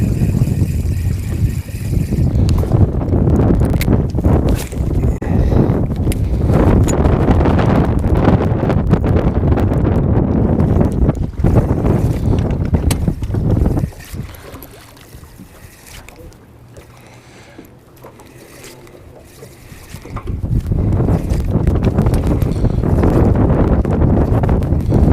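Wind roars and buffets the microphone on open water while fishing near a narrows, loud and continuous, dropping off for a few seconds midway before surging back.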